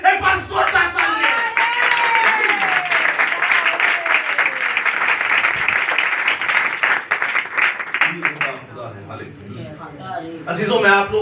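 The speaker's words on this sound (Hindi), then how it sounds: "एक बार जोरदार तालियां" A church audience gives a loud round of applause during a Christmas sermon gathering; dense clapping continues for several seconds, mixed with voices and a sustained vocal tone, then thins out before a burst near the end.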